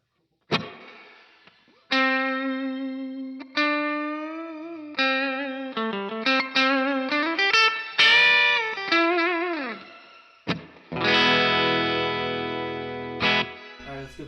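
Electric guitar notes through a Strymon Blue Sky reverb pedal's shimmer setting ring out into a lush, shimmering reverb that swells with bright, high octave-like tails, each phrase decaying slowly into the next.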